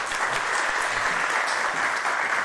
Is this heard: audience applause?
yes